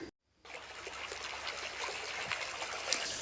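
A mountain stream trickles and flows steadily in an app's nature ambience mode, starting after a brief silence and continuing as a soft, even wash of running water.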